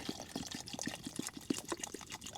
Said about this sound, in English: I've got a nice big bottle of water that I pumped in, and I'm just going to use some of this